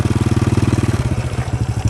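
An old, worn-out motorcycle engine running at night, a steady close chugging pulse of rapid even beats that loosens slightly toward the end, with no talking.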